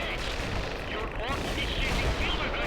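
Dense battlefield gunfire in World in Conflict: Soviet Assault, with rapid overlapping shots and heavy booms pounding infantry, loud and continuous throughout with a voice faintly mixed in.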